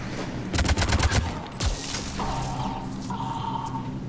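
An M8 Avenger assault rifle fires in Mass Effect 3 multiplayer: a rapid burst of close, loud shots, then a single shot, followed by softer game effects.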